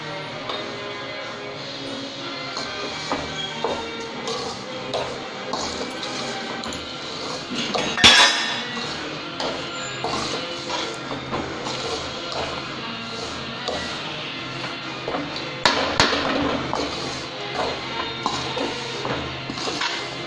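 A ladle stirs ragi sweet health powder with sugar in a metal pan, producing steady scraping and clinking against the metal, with a couple of louder clanks, close by and without talk.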